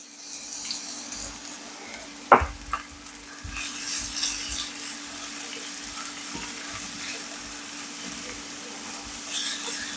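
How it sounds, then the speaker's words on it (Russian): Onions sizzle in a hot pan, frying toward golden brown, with a steady soft crackle, a couple of clanks from a utensil near the start, and faint stirring sounds. "будем лук жарить до золотистой корочки"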